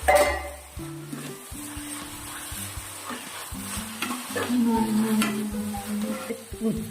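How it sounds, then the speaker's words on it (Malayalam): Ginger, garlic and green chilli paste sautéing in a pan: a bright, steady sizzle with repeated scraping and clinks of a spoon stirring against metal, close up, no voices. "ബാക്കി കുറച്ച് വെച്ച ഇഞ്ചി, വെളുത്തുള്ളി, പച്ചമുളക് പേസ്റ്റും കൂടി ഇട്ട് കൊടുക്കുക. അതിന്റെ പച്ചമണം മാറുന്നത് വരെ ഒന്ന് വഴറ്റിക്കും."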